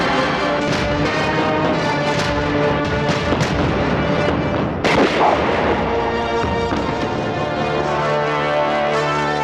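Gunfire in a movie scene, a dense volley of loud, close booming shots with a sharp crack near the middle, continuous and heavy throughout.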